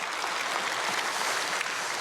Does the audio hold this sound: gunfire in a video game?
no